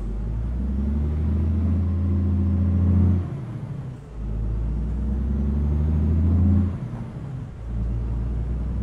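A truck engine in American Truck Simulator pulls away with a steady, loud low-pitched drone that rises with each gear, dipping briefly twice at shifts before climbing again, close and continuous with no talk.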